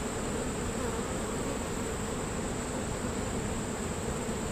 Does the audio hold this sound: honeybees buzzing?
yes